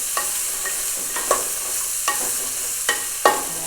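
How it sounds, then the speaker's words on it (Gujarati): Okra frying in a pan, stirred with a utensil: a steady soft sizzle carries under a handful of sharp scraping strokes against the pan, spaced unevenly, close and clear with no talking. "ભીંડાને આપણે લાર બાળવાનું છે લાર બાળવાથી ભીંડા શીકડાને સાફ સુકળ ન થાય"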